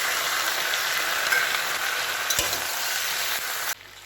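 Sauce being stirred into chilli chicken frying in a hot pan, giving a steady, close, dense sizzle with scraping stir sounds throughout that drops abruptly quieter near the end.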